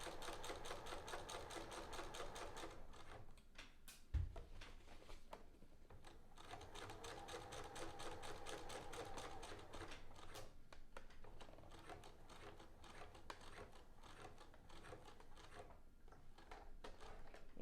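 A sewing machine stitching an invisible zipper into fabric runs in fast, rapid rhythmic clatter, pausing briefly with a soft thump before resuming steady stitching, close and quiet.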